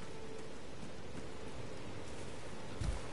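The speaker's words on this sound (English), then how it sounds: "Okay, it's raining. It's raining, man." Steady rain falls in the fantasy video game Elden Ring, a soft even hiss of drops with a brief low rumble near the end and no voices.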